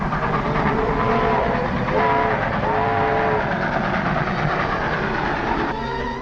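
Train running in a 1944 serial's soundtrack, with a rolling rail rumble and clatter over steady noise and a brief horn or whistle tone midway, continuous and moderately loud.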